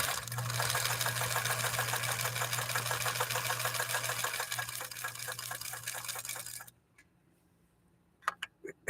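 A 1954 Husqvarna sewing machine runs a lock stitch in one steady, loud mechanical hum with a fast rapid pulse, stopping after about seven seconds; a few sharp clicks follow in the quiet.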